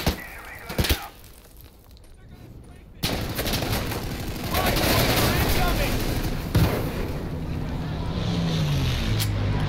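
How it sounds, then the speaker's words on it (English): German machine gun fire from behind sandbags in the World War II shooter Day of Infamy, at Foy: bursts of gunfire and explosions in a dense battle mix, with voices calling out over it. "There's a German on the left side with a machine gun."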